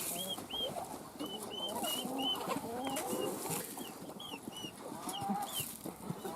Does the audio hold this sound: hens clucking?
yes